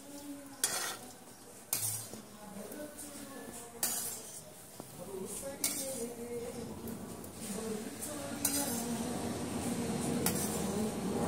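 Fish pickle being stirred and turned in a pan, with clinks of a utensil against metal at intervals over a soft, steady sizzle.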